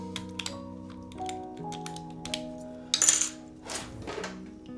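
Mechanical keyboard keys clacking on a Krush65 board, with a plasticky spacebar giving a bright, poppy tap amid irregular keystrokes, close and clear, one sharper burst standing out midway.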